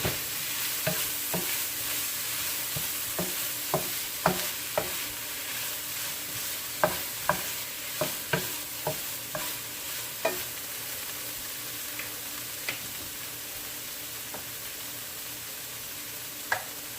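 Bacon bites sizzle steadily in a hot pan, and a utensil scrapes and taps against the pan at irregular moments as they are stirred. No one speaks.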